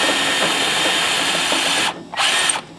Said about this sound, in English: This aluminum drill is way easier.